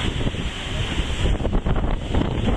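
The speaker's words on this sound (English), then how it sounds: "These are just sort of normal 40-foot waves here." Large ocean waves at sea around a boat, heard from the stern as constant roaring surf and heavy wind buffeting the microphone, loud and continuous with no voices.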